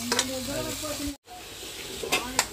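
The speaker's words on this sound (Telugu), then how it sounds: "ఉడికించిన ముక్కలు వేసేసి బాగా కలపెట్టుకుందాం" Boiled beef pieces being stirred and mixed into a sizzling curry, with scraping and frying noise close by, a brief break partway through, then more stirring.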